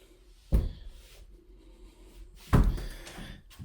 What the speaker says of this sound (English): Our front door.